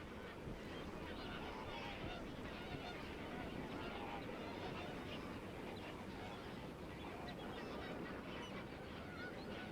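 A dense, continuous chorus of honking calls from a large greater flamingo colony, loud and overlapping with no pauses.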